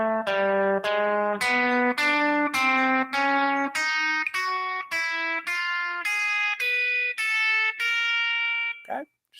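A guitar plays a slow alternate-picking exercise, a steady run of evenly spaced single notes stepping upward, each clearly plucked and ringing briefly, up close with no talking over it.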